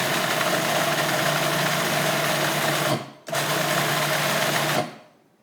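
A food processor pulses a bean burger mixture of artichoke, spinach, cauliflower and beans: two loud, steady motor runs of about three and one and a half seconds, split by a short pause, with no talking.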